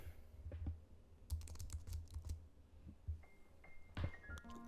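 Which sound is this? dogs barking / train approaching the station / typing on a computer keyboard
typing on a computer keyboard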